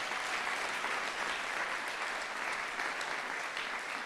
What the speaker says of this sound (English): So let's give a big round of applause to Darby.